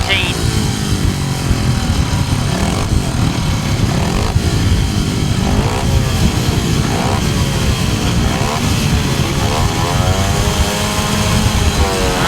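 500cc grasstrack racing motorcycles roar off the start line at a European solo grasstrack final, a loud, continuous engine drone with rising and falling pitch sweeps under a commentator's voice.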